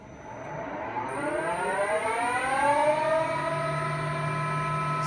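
A machine spindle motor on a control panel spins up with a rising, sweeping whine that climbs in pitch and then holds steady at full speed, with a thin high tone above it.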